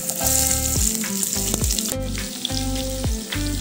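Garlic, green chili and chopped onion frying in a pan for restaurant-style chilli paneer, a steady close sizzle with occasional stirring clatters and no talk.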